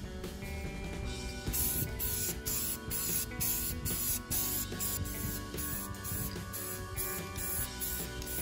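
Repeated short bursts of spray paint hiss from a can onto a homemade wooden truck bed organizer for a Toyota pickup, evenly paced and close, with no talking.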